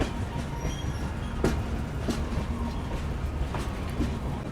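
The Vikramshila Express runs near Kiul Junction in India, a steady loud rumble of wheels on track with a few sharp rail clacks at uneven intervals, heard from inside the moving coach without talk.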